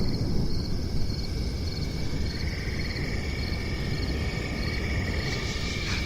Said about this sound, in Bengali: রাস্তার পাশ দিয়ে জঙ্গল থেকে ঝিঝি পোকার এক টানা ডাক